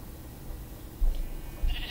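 Sheep in the Minecraft video game bleat in two short, clear calls over a soft steady background, the game sounds fairly close and alone without speech.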